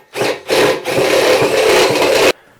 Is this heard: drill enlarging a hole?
yes